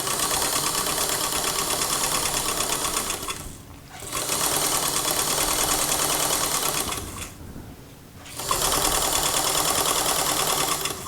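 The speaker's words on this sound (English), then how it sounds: "I'm running it so the center of my presser foot is running right at the edge of the" A sewing machine rolls a tiny hem along a lace edge, running in steady rapid stitching bursts with two short pauses between them, close and loud.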